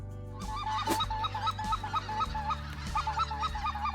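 Speckle-bellied geese honk repeatedly during opening weekend of goose season in Arkansas, a flock of rapid, overlapping calls at moderate distance over a low steady background rumble.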